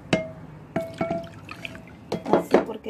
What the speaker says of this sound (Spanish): Vamos a agregar más agua.